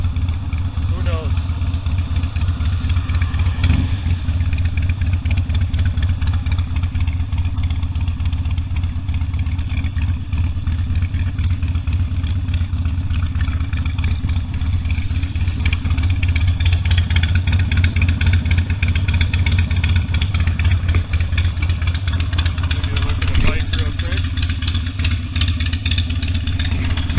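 A Harley Davidson Sportster motorcycle engine drones steadily while riding, a constant low rumble with wind noise, close and loud throughout.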